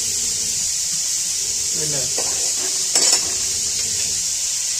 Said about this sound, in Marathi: तर दूध बघितलं कसं उकळतंय मित्रांनो. मस्त बासुंदी आपले खवा असा उकळतोय.